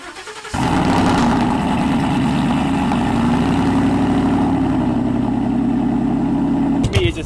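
A lifted 2020 GMC Denali's 6.2-liter engine starts up and settles into a loud, steady, throaty idle close by, with a brief clatter at the end.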